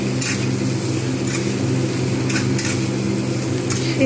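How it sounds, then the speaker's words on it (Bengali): Pumpkin, pointed gourd and potato pieces fry in oil in a pan, giving a steady, moderately loud sizzle. A few faint clinks and scrapes of stirring come through, and no one speaks. "জাস্ট আমি এগুলো সব ভাজবো"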